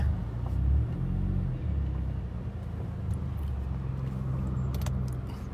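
A turbocharged 2.0 Toyota Camry's low exhaust rumble drones steadily from inside the moving car, fairly quiet and even, with faint road noise and occasional small clicks.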